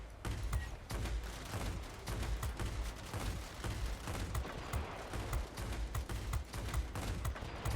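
An XP-58 fighter's 37mm cannons fire in World of Warplanes, rapid repeated booming bursts over a constant engine roar with no talk.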